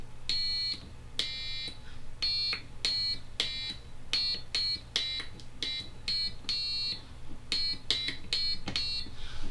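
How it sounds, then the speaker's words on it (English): Piezoelectric buzzer on a SparkFun Arduino kit circuit sounding shrill electronic tones as buttons are pressed, a steady run of short and longer beeps with brief gaps, with a faint low hum underneath. "we have the piezoelectric buzzer going through this potentiometer"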